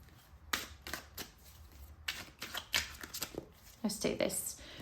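Close-up tarot card shuffling: a string of quick papery snaps and flutters at an uneven rhythm, ending in a denser rustling burst.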